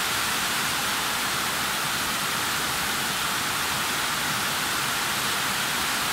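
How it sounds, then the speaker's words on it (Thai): Heavy rain pours down in a steady, dense hiss with no breaks, loud and close throughout, with no voices. "เวลาฝนตกแรงๆแบบนี้มันน่ากลัวนะเพื่อน"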